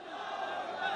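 A crowd at a political rally roars Allahu Akbar in unison in response to a slogan, a dense sustained swell of many voices heard briefly.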